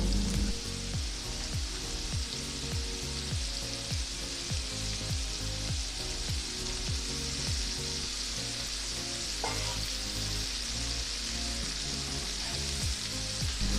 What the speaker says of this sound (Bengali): ডুমো করে কেটে রাখা আলুগুলো দিয়ে ভেজে নেব